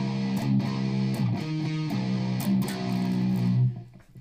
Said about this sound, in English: So that little turnaround part at the end is going to sound like this.